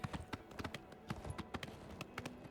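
Horse hooves clip-clop in the video game Oblivion Remastered, a quick irregular series of sharp hoof strikes close up, fairly quiet over a soft background.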